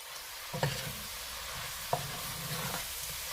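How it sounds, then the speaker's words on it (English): Marinated, seasoned tripe frying in oil in a pot for Jamaican tripe with butter beans, a steady sizzle broken by a few stirring clatters, close and alone with no talk. "Add in our tripe that has been marinating for an hour and a half in seasonings."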